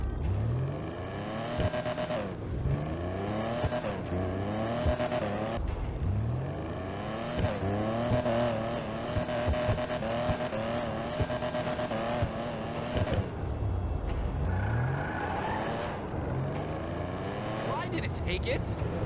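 A Benefactor Stirling GT sports car engine in GTA Online revs and roars repeatedly, pitch climbing and dropping through gear changes, loud and continuous with no pauses.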